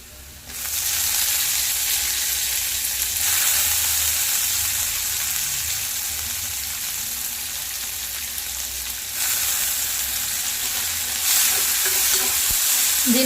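Onions and tomato fry in a pan with curry leaves, giving a loud, steady sizzle that carries on without a break and rises slightly near the end.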